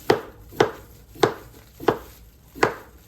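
A knife, held in a gloved hand, slices raw potatoes into thin rounds on a cutting board. Five crisp, close chops land at an even, unhurried pace.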